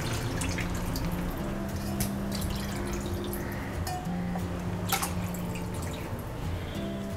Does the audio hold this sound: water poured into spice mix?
yes